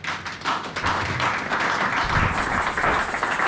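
A church congregation applauds steadily throughout, a dense, continuous wash of clapping that swells slightly toward the end.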